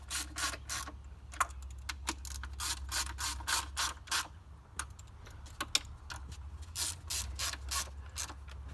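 A 1/4 inch drive ratchet tightens coil bolts on a 2008 Ford Escape, rapid close clicking bursts repeating in quick strokes over a low engine-bay hum.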